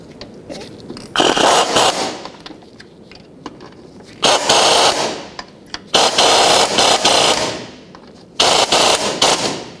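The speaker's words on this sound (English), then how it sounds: "Once you get them started, you can let go of the pry bar and then just tighten them up." A power tool, likely an impact wrench, tightens the lower shock mounting bolts on a 1997-2004 Dodge Dakota, firing in four loud, rattling bursts of a second or so each with quieter pauses between.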